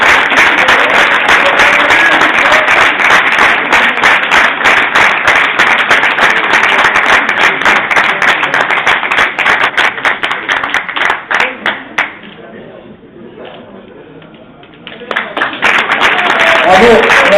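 Sustained audience clapping and applause for Camille Méda of the modern pentathlon section at an awards ceremony in Saint-Denis, loud and dense, thinning and dipping briefly near the end before swelling again.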